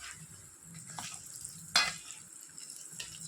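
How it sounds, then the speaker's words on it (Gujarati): A spoon stirs a spice mix in oil for sweet-and-sour mango pickle, quiet scraping and soft sizzle with one sharper clink of metal on the pot midway, no voices. "એને આ રીતે હવે હલાવી લઈશું"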